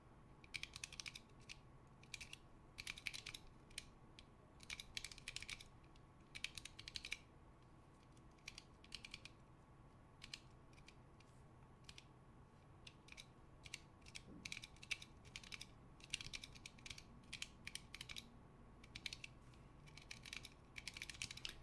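Slow typing on a Planck Light low-profile Choc keyboard, soft scattered clicky keystrokes in irregular clusters with pauses, faint and close over a quiet background hum.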